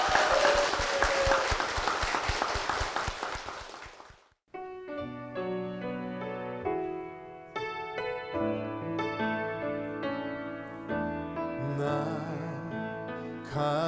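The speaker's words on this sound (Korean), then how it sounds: "두 분께 큰 박수 부탁드리겠습니다" A burst of clapping from a church congregation for about four seconds, fairly loud, fading out as gentle piano music begins and carries on alone.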